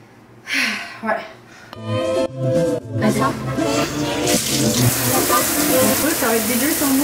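A shower runs in a steady broadband hiss that builds and holds for most of the stretch, with people talking and laughing close by over the spray.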